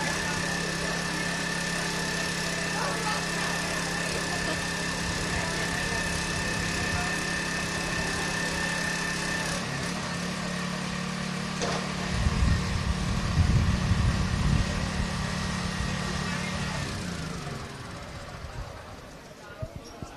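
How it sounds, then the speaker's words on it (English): A lawn mower runs steadily beside an outdoor running track at a university track and field championship, giving a continuous engine drone that grows rougher midway and then winds down near the end, mixed with background crowd and talk. "We have what seems to be a lawnmower going off beside us"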